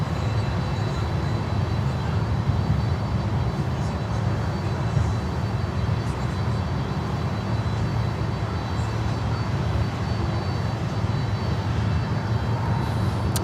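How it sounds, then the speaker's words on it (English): An Air Canada Cargo Boeing 767 jet bound for Toronto, seen close up at Miami airport, makes a steady, loud broadband roar that holds for the whole stretch with no voices. "All right, Air Canada Cargo. There we go. 767 heading to Toronto."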